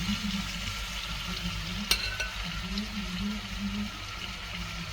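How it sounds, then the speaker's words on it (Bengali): Marinated beef fries in about a tablespoon of oil in a pan over medium heat, a low steady sizzle with light stirring and one sharp clink partway through, close and without speech. "ঢেলে দেওয়ার পর মিডিয়াম আঁচে ভাজতে থাকব"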